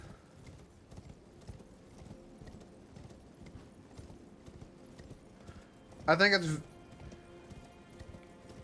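In the video game Elden Ring Shadow of the Erdtree, the spectral horse Torrent gallops with a steady, rhythmic clip-clop of hooves, followed by a short loud whinny, while a person speaks briefly.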